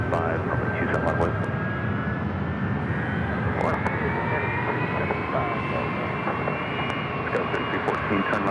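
A departing jet airliner climbs out of San Diego airport, its steady, loud engine roar filling the whole stretch with a slowly rising whine, while radio-style talk runs over it.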